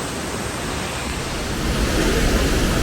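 Taiwan Falls, a waterfall, produces a dense, steady broadband roar of rushing water. The roar swells slightly louder toward the end, and no voices are heard.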